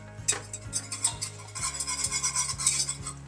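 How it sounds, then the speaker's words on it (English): A whisk beats brown gravy thickened with cornstarch in a pan, giving quick, rhythmic metallic scraping and ticking against the pan, close and steady with no voices. "So the trick is to just keep whisking it so that it doesn't clump up"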